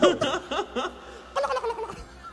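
A voice mimics a turkey's gobble in two quick warbling bursts, close and fairly loud, with a short pause between them.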